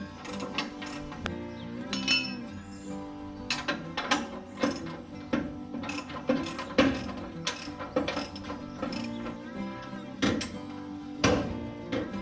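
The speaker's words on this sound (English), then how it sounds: "Next, we're going to come back and tighten up upper control arm bolts" A ratchet tightens the upper control arm bolts on a car, giving repeated close clicking bursts in uneven strokes with brief pauses and metallic clinks throughout.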